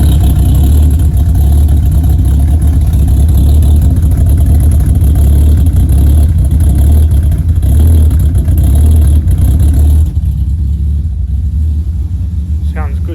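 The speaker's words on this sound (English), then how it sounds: "You want to see my custom exhaust?" Car with a custom exhaust running close by with a loud, steady rumbling idle and light revs, then dropping off toward the end, with a person speaking over it.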